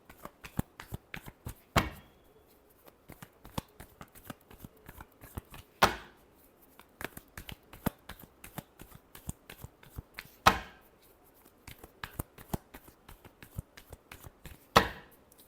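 Tarot cards shuffled by hand, close up, in a steady patter of soft riffling flicks broken by a few louder bursts of cards being squared and bridged, with no talk.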